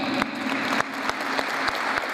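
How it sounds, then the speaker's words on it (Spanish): An audience at a Spanish-language municipal meeting with auxiliary mayors applauds steadily, a full, even roll of many hands clapping with a few sharper claps standing out, and no talk during it. "ojalá que brindemos aplausos muy fuertes"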